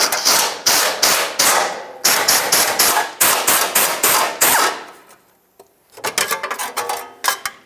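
Three 13mm bolts coming off the exhaust heat shield of a 2006-10 Ford Explorer. Loud, close bursts of rapid ratcheting clicks and metallic tapping in several runs, then a short pause and a final quicker burst, with no talking.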